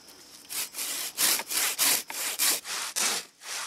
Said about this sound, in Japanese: ついでノコギリで追い口を入れます